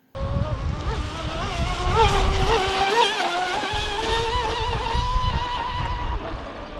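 A Proboat UL19 RC speedboat runs at full throttle across a reservoir, its high, steady electric whine wavering slightly in pitch as it carries on for several seconds.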